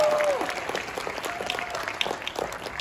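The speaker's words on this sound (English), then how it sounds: "Give it one more time, big round of applause." A crowd gives a loud, dense round of applause at the Anime Los Angeles 2022 convention opening ceremony, with sustained clapping and a few scattered cheers throughout.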